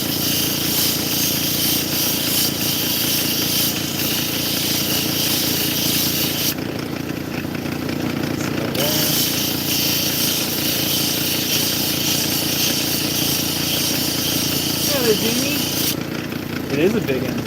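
A large opal is ground flat on a lapidary wheel, a loud continuous whirring grind with a hissing water spray that cuts in and out as the stone is pressed and lifted; someone speaks faintly underneath.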